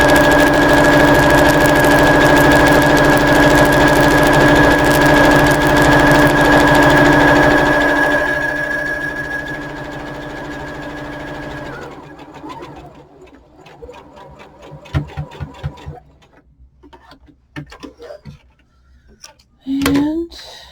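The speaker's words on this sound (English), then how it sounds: "change it to a large basting stitch, and on the unnotched edge, this is the notched, we're going to do some stay stitching" A sewing machine runs a long basting stay stitch along hat fabric, a loud steady mechanical whir for about twelve seconds, then stops into quieter handling clicks and a brief voice.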